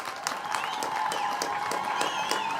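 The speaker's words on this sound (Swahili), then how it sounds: "Tumpigieni director wetu Madam Elizabeth makofi" Crowd of children and guests clapping for a director at an International Children's Day event at a Kenyan children's village home, steady applause with a faint whistling tone running through it.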